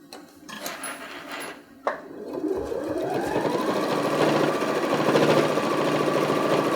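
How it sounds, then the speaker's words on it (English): A sewing machine stitching a seam around a zippered fabric bag, starting after a short quiet pause and settling into a steady, close, buzzing run that continues to the end, with no voices. "And we're going to just continue sewing around."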